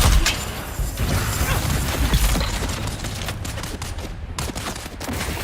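Dense, rapid gunfire and heavy impacts rattle through a video game battle in Dune Awakening, loud and sustained, with thuds and bursts overlapping throughout.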